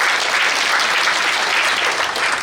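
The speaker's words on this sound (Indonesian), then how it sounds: "Ini tepuk tangan buat Tuhan kita." Church congregation applauding together during a sermon, a dense, steady wash of clapping that stays loud and even throughout with no talking.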